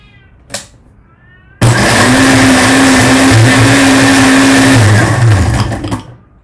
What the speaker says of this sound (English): then crush it with this blender